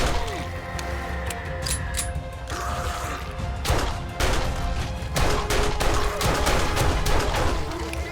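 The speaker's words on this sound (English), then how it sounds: "so I just shot them to death" Gunfire in the survival game 7 Days to Die rings out as a cluttered run of cracking shots, with mechanical clatter and crashing impacts mixed in, dense and fairly loud.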